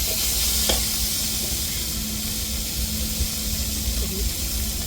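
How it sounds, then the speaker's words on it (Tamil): Ground masala of coconut, cumin, garlic and green chilli hitting sautéing carrots in a pan, giving a steady, fairly loud broadband sizzle with a brief stirring scrape near the start. "இப்போ நம்ம அரைச்ச மசாலாவை சேர்த்துக்கிடுவோம்"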